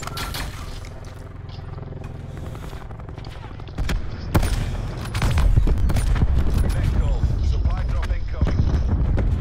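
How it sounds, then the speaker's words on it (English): Rapid bursts of automatic gunfire and sharp single shots crackle through a video game shooter, loud and dense, running under players' talk with booming hits building toward the end. "Yeah, gunfire."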